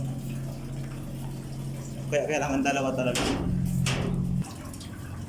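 A pump draining seawater from a boat's engine room gives a steady low hum under gushing, splashing water, and someone speaks briefly over it.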